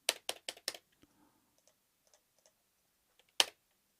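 Menu clicks in the Teletext game, four quick sharp clicks in a fast row, then a long near-silent pause with faint ticks before one more crisp click close to the end.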